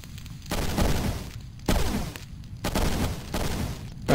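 Cannons in a video game firing cannonballs, a sequence of four heavy booming blasts each followed by a sustained rumbling decay, loud and evenly spaced with no voices.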